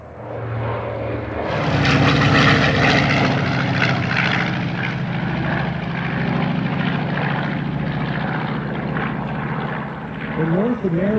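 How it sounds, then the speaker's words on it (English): A North American B-25 Mitchell twin-engine medium bomber, Betty's Dream, sweeps low overhead at an air show, its propeller engines swelling into a loud, sustained roar that holds steady, then eases slightly as it passes. "I see Betty's Dream, the B-25, coming in low"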